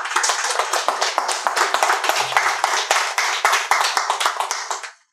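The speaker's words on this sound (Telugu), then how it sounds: "క్లాప్స్ కొట్టండి." A workshop audience claps together in a quick, fairly even burst of hand claps, close and lively, lasting a few seconds before stopping abruptly.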